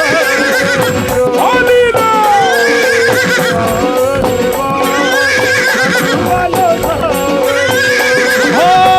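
Horse neighing and clip-clop hoof effects layered into a loud live Khatu Shyam devotional bhajan performance, the whinnies and hoofbeats blending with dense music and singing throughout.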